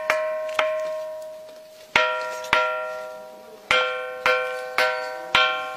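A natural stone at the Mahakali temple in Ahmedabad is struck repeatedly and rings like a metal bell, each sharp strike followed by a bright, sustained tone that decays; about nine irregular hits.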